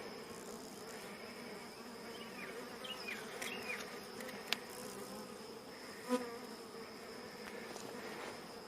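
Honey bees at an opened hive make a dense, steady buzz, faint and continuous, with a few individual bees droning closer by and occasional soft knocks from handling hive frames.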